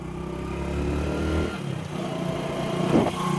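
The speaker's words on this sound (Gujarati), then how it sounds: "બાઇક તો ચાલુ કરું" A motorcycle engine idling and rumbling close by, with a slight rev toward the end, no talking.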